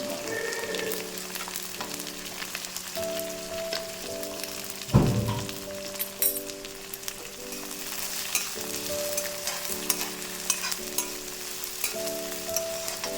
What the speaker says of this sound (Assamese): এতিয়া ইয়াতে মই পিঁয়াজ দি ধুনীয়াকৈ ভাজি ল'ম